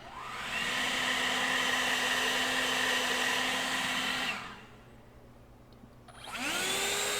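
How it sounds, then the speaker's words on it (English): An Enhulk 930 cordless battery leaf blower roars steadily at full power for about four seconds, winds down to a quieter hiss, then surges back up with a rising whine. "I did a little test to see which blower would roll a softball through the grass the furthest"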